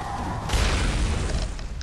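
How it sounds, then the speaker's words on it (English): A Molotov time bomb goes off in the Bloodborne video game: a sudden loud, broad blast that roars on as a sustained rumble with no talking. "like to throw their little Molotov time bombs"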